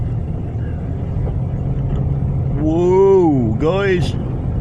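An old grey car's engine strains while driving through a snow storm: a low, steady rumble runs throughout, and a man exclaims over it near the end.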